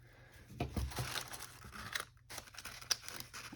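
Tape rips and crinkles as a tray is peeled away from the back of a craft box, a few close, scratchy tearing bursts followed by quieter rustling.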